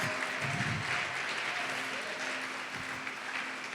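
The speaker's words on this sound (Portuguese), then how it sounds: "Pode aplaudir e glorificar o Senhor Jesus" A church congregation claps in a steady, dense wash of applause that holds throughout, moderately loud and close.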